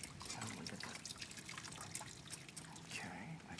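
Water trickles and drips into a pan of pasta in tomato sauce, a steady close pour lasting the whole moment with faint background voices and kitchen noise underneath.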